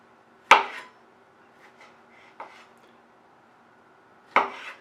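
A kitchen knife chops citrus fruit segments for marmalade on a cutting board, with a few sharp, separate knocks spaced well apart and quiet gaps between them, close and clear.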